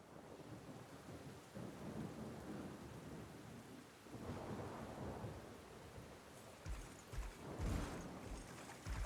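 Rain falls steadily and thunder rumbles in waves in the video game Unicorn Overlord, with heavy low rolls building and fading over a constant wash of rain.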